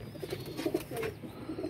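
Pigeon cooing in a loft or yard, a few soft low coos spread through the moment, fairly close, over faint background hum.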